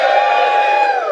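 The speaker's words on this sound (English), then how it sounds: "Can I hear a cheer if you're enjoying it?" Crowd at a live cycling event on stage cheering and whooping loudly and steadily, a sustained roar of many voices near the stage for about a second.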